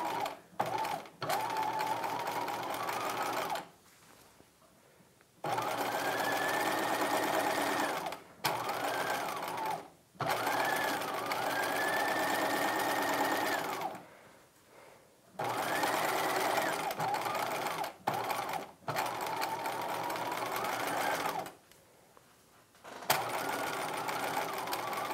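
A sewing machine stitches a dress lining in several long bursts of rapid, whirring stitching separated by short pauses, with a voice talking in places.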